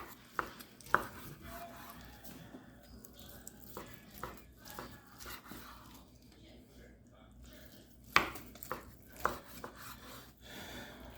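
A knife slices through fatty brisket on a cutting board, with soft, irregular cuts and a few sharper knocks against a quiet kitchen background.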